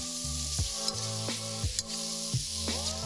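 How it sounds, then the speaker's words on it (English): Pork and vegetables sizzle steadily in a hot wok, with recurring scraping and clanking strokes of a utensil stirring and tossing the food every second or so, all close and fairly loud without any talking. "Add the vegetables back into the wok and mix everything around."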